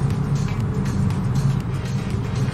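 A 1994 Toyota Corolla engine accelerating hard during a power test on the road, a loud, steady engine and road roar heard from inside the car.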